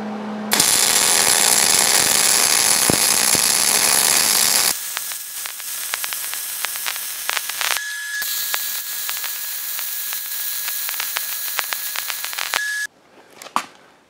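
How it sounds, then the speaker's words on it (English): Steel being welded with ER70S-6 or ER80S-D2 filler wire gives off a loud, continuous crackling hiss that breaks off into quieter spells, then resumes in separate bursts, close by and with no talk. "It took me about 30 seconds to make that weld"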